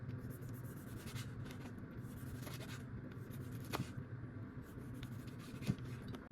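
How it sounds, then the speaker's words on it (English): A sharp knife gently saws back and forth through bread slices for bruschetta, making soft, steady scraping strokes close by with a few small crisp crunches. "I'm gonna do a very gentle saw. I don't wanna go too hard. I'm gonna let the knife do all the work for me."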